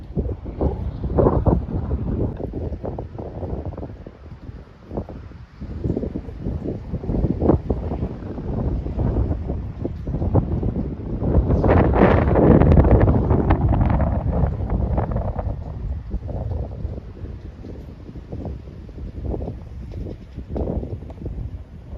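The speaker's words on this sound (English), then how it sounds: "When it's windy like this, it's hard to film, so please excuse the noise." Strong outdoor wind buffets the microphone in rough, low rumbling gusts that rise and fall, peaking in a sustained blast midway before easing back to choppy buffeting.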